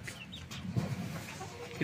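A white hen gives soft, scattered clucks shortly after laying an egg, faint and close, in quiet farmyard surroundings with a little background noise.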